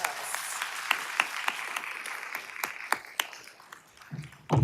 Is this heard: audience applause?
yes